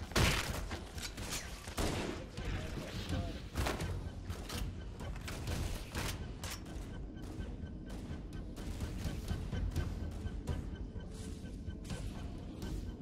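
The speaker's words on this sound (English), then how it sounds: "there goes the shotgun" Repeated shotgun blasts in a video game ring out amid dense, continuous in-game combat noise, with several sharp reports spread across the stretch and speech mixed in.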